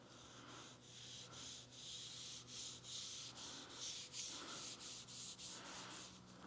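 Trim restorer being rubbed onto a car's exterior trim with a small applicator pad, a steady close-up scrubbing and swishing in repeated back-and-forth strokes with no talking.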